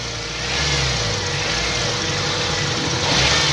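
A Toyota Corolla engine with the oil filler cap open runs steadily and loudly up close, a constant hum with a slight rise in revs near the end, without talk.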